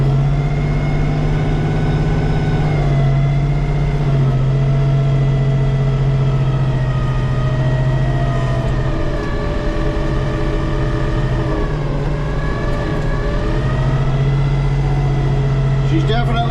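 A tractor with a front-mount snowblower chews through heavy wet snow, its engine droning loud and constant with a deep steady hum and a slight strain in pitch throughout, close to the listener.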